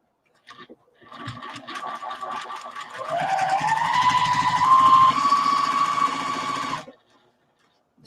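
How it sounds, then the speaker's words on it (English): Sewing machine stitching binding onto a quilt, starting with a few slow stitches and then speeding into a steady, close mechanical hum and rapid needle chatter that runs for several seconds before stopping abruptly. "continue sewing on in this length all the way to the end here"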